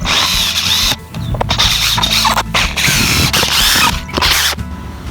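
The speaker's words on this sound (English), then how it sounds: "we're gonna use these 3-inch exterior screws to join the ends together" A cordless drill drives 3-inch exterior screws into wooden raised garden bed frame ends, several loud whirring bursts with short pauses between screws and a ratcheting clutch sound, close up with no talking.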